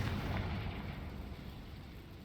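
Confringo fire spell erupts in Hogwarts Legacy as a loud, rumbling explosion with a broad roar that slowly fades over a couple of seconds.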